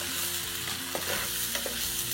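Broken rice fries in a pan over medium heat, a constant close sizzle broken by a few scraping stirs of a spoon, with no voices.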